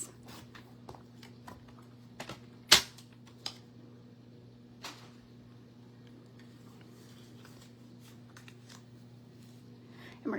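Paper card stock being trimmed down to size for a handmade card, heard as sparse, faint cutting snips and clicks over a steady low background hum, with one sharper snap partway through.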